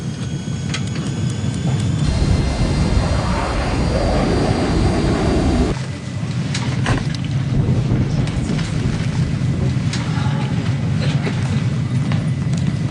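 An aircraft engine roars steadily as the plane turns in flight, a loud, broad rushing drone that shifts character partway through and carries on without talk.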